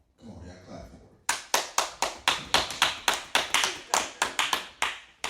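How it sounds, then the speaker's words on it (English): A studio audience bursts into steady applause after a quiet moment, many hands clapping loudly in close rhythmic waves that pulse repeatedly, with murmuring voices beneath. "Come on, y'all clap for it."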